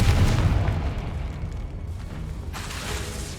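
A Confringo fire spell blasts in the Hogwarts Legacy video game, a loud booming explosion with a rumbling low-end roar that fades into a sustained crackling tail, followed by a second fainter burst near the end.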